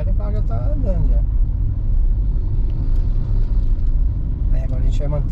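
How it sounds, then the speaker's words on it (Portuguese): Learner driver's car pulling away and moving through city traffic, a steady low road rumble and engine drone throughout with an instructor talking over it. "acelera e o carro já tá andando já."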